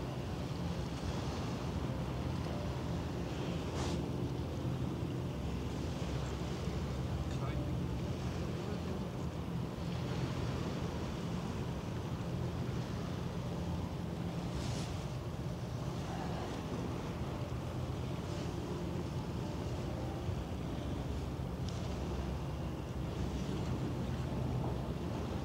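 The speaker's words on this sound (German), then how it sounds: "jetzt fahren die Schlepper mit" Tugboats run alongside the Dutch navy frigate HNLMS Evertsen on open water, a steady wash of engine rumble, waves and wind buffeting the microphone throughout, with a few brief knocks and no clear talk.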